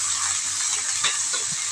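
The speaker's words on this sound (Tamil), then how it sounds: "வெங்காயம் வதங்கிட்டே இருக்கு." Steady hiss of chopped onions sautéing in hot oil, a continuous close sizzle with a few faint clinks.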